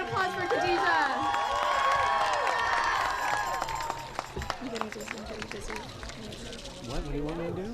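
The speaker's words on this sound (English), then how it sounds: "Big round of applause for Khadija." A crowd at a climate protest in Washington DC cheers and claps after a speaker. Whoops and voices ring out loudly at first, then fade into scattered clapping and chatter.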